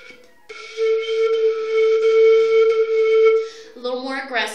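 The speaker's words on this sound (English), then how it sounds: "you could demonstrate by tonguing with a ta syllable" A flute plays one long held note, steady and fairly loud for about three seconds, after a short breathy onset; a speaking voice follows right after the tone.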